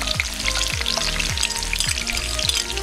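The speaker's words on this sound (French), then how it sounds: "Je vais mettre mes oignons pour parfumer mon huile" Onions and chili sizzle steadily in hot oil, with pure potato mash on the way; the loud, dense frying hiss runs without a break, and low swooping tones recur about every half second underneath.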